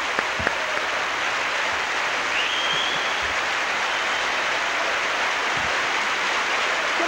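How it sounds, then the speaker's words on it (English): Steady, dense audience applause at a television program fills the whole stretch, a broad even wash of many hands with no break, a few sharper claps near the start and no talk. "a nice round of applause, folks?"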